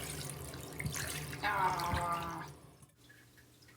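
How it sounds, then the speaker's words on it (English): A '98 Furby toy rinsed under cold running water in a sink, the tap splashing and trickling steadily for a couple of seconds before cutting off, with a brief voiced exclamation over it. "Then I rinsed him off in some cold water in the sink"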